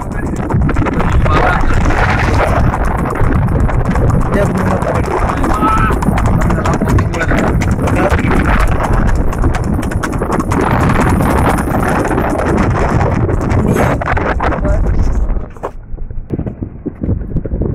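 A Sindhi horse walking with steady, close hooves clip-clopping throughout, with someone talking over it and wind buffeting the microphone.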